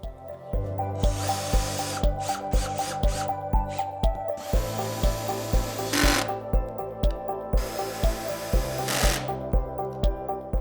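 A power drill drives screws through caster wheels into a wooden dolly base, giving a steady rhythmic pulsing buzz with repeated regular beats and several louder surges of full-speed whirring, close and alone.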